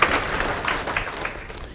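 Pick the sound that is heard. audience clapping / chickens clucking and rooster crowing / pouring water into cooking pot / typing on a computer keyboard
audience clapping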